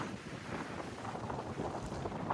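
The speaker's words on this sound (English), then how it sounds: "the wind just blowing like crazy" Strong wind gusting across an open mountain viewpoint at Skyland Resort, a steady, loud roar buffeting the microphone throughout with no speech.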